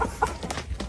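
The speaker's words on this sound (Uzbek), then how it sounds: "Bu yerda har xil tovuqlar bor ekanda" Several chickens and a rooster cluck in short, irregular bursts close by, one brief call after another over a steady low farmyard background.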